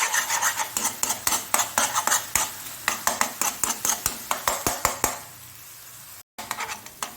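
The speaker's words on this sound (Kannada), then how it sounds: "ಅಷ್ಟು ತನಕ ನಾವು ಇದನ್ನು ಹೀಗೆ ಫ್ರೈ ಮಾಡ್ತಾನೇ ಇರಬೇಕು." Masala for mackerel fry is stir-fried in oil in a pan: a spoon scrapes the pan in quick, regular strokes over a low sizzle, up close, then stops briefly before a few more scrapes.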